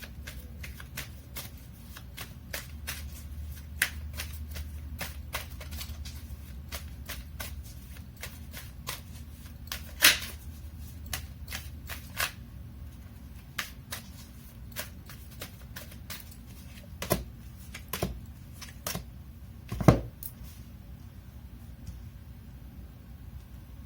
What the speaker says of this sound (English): Let me pull up some cards here from the universe for you.